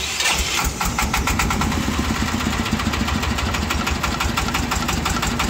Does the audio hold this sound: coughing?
no